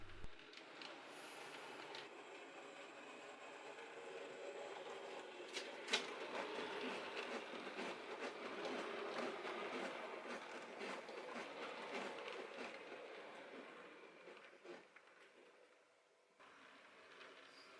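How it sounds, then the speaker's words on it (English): A model railway passenger train pulls out of a station, giving a quiet, steady rolling rumble with faint wheel squeal and clicks that fades slightly toward the end. "as that ordinary passenger train departs Yarslow"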